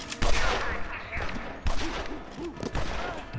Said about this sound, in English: It's a machine gun of nukes.